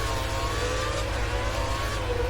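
A Formula 1 race car engine in a racing video game hums at a steady high pitch, constant and fairly loud, with no talk over it.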